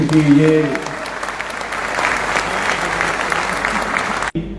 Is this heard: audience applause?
yes